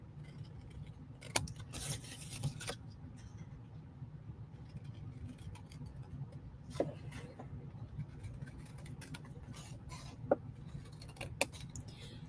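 Scissors trimming papercraft card, a few sharp snips scattered over a low steady background hum, close and fairly quiet.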